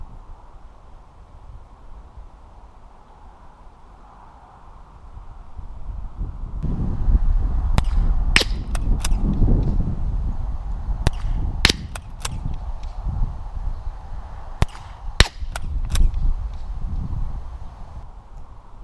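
An old Remington 12A rifle firing at targets outdoors: a series of sharp, cracking shots at irregular intervals, some close together, over a steady wind-like rumble.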